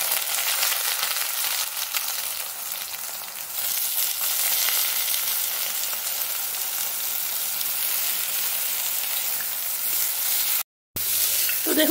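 Eggplant fries in a little hot oil, a loud, dense, continuous sizzle close to the pan that runs steadily before a brief drop to silence near the end.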